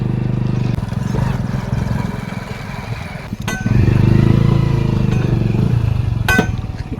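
A motorcycle engine runs steadily close by, rumbling and revving up partway through, loud and continuous.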